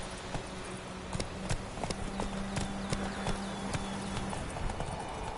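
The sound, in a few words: horse Roach galloping, from video game Witcher 3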